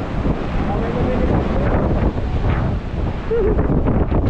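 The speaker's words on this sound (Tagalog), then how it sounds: "malakas ang hangin" Strong wind roars and buffets the microphone continuously, a loud rushing gale with brief dips in force.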